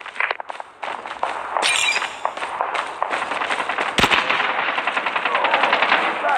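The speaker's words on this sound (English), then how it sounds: "Sentry gun deployed." A sentry gun in Call of Duty fires loud, rapid machine-gun bursts almost nonstop, with a sharp clang partway through and no talking.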